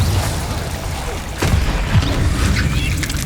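Bombarda explosion spell cast in the wizarding game Hogwarts Legacy, a loud booming blast in the middle of a dense, roaring combat mix, with brief cracks and whooshes layered on top.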